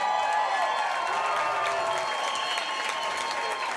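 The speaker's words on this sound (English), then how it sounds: "let's give both these fighters a great big round of applause" An audience applauds MMA fighters after a 145lb bout at a live event, a steady, dense wash of clapping with faint cheering from a crowd, sustained throughout with no voices over it.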